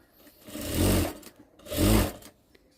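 An electric sewing machine stitches the side seams of a Punjabi dress in two separate bursts of fast, whirring needle action, each about half a second long and heard up close with quiet pauses between them.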